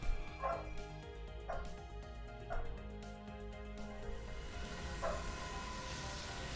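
A dog in a game barks in sharp single yaps, four spaced about a second apart and then one more after a pause, standing out over a dense, steady background of music and rumble.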